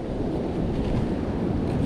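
Ocean surf breaking on a beach during a cold-water surf fishing outing: a steady, close, loud wash of waves with wind buffeting across the whole stretch, and no voices.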